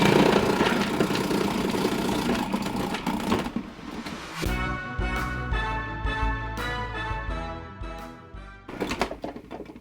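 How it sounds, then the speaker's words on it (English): A food processor slices potatoes thin and even. A loud, churning motor whir carries mechanical clatter, and from midway irregular chopping knocks and bumps sit over a low hum. "I want thin slices, even slices. That's why I'm using the food processor today to do this."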